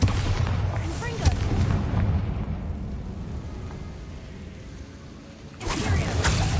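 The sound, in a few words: Bombarda and Confringo spell explosions in video game Hogwarts Legacy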